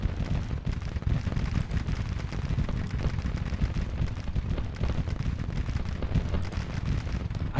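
Dense, continuous rumble of artillery and massed musket fire from a Civil War battle in Grand Tactician: The Civil War, a steady low roar with faint crackles throughout and no talk.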